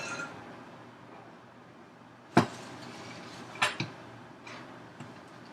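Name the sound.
handling an 8-cup measuring cup used as a bowl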